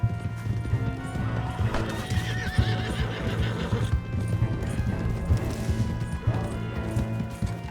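In Red Dead Redemption 2, horses gallop with rapid, dense clip-clop hoofbeats and occasional neighs. Background game sounds and shouts run through the whole stretch.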